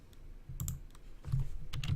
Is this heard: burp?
no